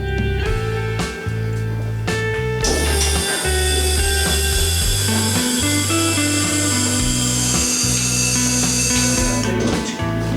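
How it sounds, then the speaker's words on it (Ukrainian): A wheelchair lift operating, with a steady loud mechanical motor whine and hum, several tonal shifts and clunks as it starts and moves, close and without talk. "Зараз перевіримо, як працює підйомник, і піднімемось до пані Тетяни."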